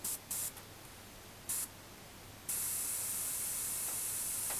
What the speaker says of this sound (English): I'm going to start to fill the face out now with the airbrush and some white